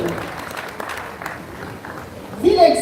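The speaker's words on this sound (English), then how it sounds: "a round of applause for our young students" Applause for young students at a birthday symposium, a steady low patter of clapping from the audience that swells briefly louder near the end.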